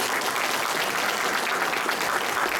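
An audience claps after a lecture on AI-era survival skills at the Seoul Southern District Prosecutors' Office, a dense, even wash of applause from a sizable crowd, sustained throughout with no talking.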